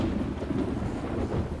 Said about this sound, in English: Oh, is it starting to rain again?